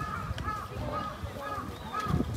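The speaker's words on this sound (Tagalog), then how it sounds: "At dito, maraming uwak dito." Crows caw repeatedly in a park with tamarind-like trees in Tachikawa, Tokyo, several harsh calls spaced about half a second apart over steady outdoor background noise.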